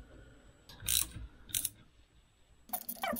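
Ratchet tightening bolts on a Land Rover Discovery turbocharger during a rebuild, three short bursts of rapid metallic clicking close up, separated by pauses.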